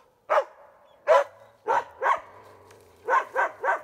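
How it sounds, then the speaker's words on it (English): Western Siberian Laika bear dogs bark in the distance outdoors, seven sharp separate barks in two bursts with short gaps between them, and no talk over them. "Oh, there goes my bear dogs."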